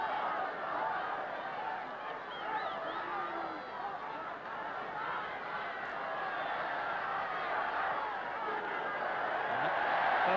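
A crowd of about 55,000 fills the ground at a 1965 Manchester United v Chelsea football match, a steady dense roar and murmur of many voices with no breaks throughout.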